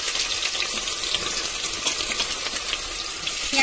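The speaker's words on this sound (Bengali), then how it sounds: "পেঁয়াজটা ভেজে নেবো ব্রাউন কালার পর্যন্ত হওয়া পর্যন্ত" Onions sizzle steadily in hot oil as they brown for a Hyderabadi beef and mutton halim, a close, even hiss with no pauses and no voices.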